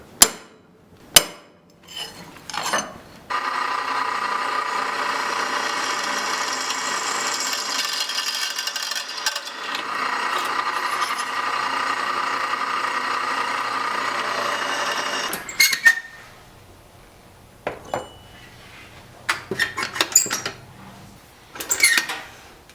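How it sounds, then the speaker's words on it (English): A drill bores holes into a forged go mai cable Damascus steel knife blank, a steady high whine running about twelve seconds without talk, framed by sharp knocks and clatter of handling before and after. "But the next thing we need to do is try to get some holes drilled in here"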